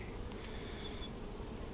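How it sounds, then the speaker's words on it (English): Honeybees buzz faintly around an opened hive, a soft continuous hum with an occasional slightly louder bee passing close by. "so all those bees hatched"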